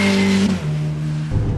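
A Ferrari F8 Tributo accelerates, its engine giving a steady, loud tonal drone that dips briefly as the pitch shifts, then swells again near the end, with no talking.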